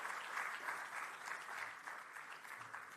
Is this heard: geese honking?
no